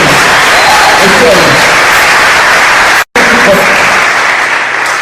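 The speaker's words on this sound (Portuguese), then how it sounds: "Vamos dar um aplauso." Loud, dense clapping from a crowd at a Christian youth camp gathering, with voices mixed into the din and a sudden cut around the middle before the clapping resumes.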